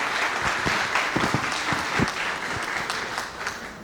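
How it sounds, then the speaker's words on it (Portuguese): An audience gives a round of applause welcoming a woman named Paula to a talk, sustained dense clapping with a few sharper individual claps standing out near the front, with no voices. "Uma salva de palmas para Paula"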